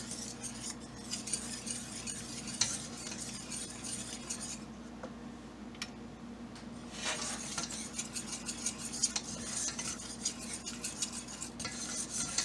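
Flour being stirred in a pan for a chicken cordon bleu sauce, with steady scraping and clinking of a utensil against the pan under a soft sizzle, continuous and close, with no talking.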